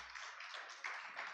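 A church congregation applauding together during a Spanish-language sermon, a steady wash of many hands clapping at moderate distance with no speech over it.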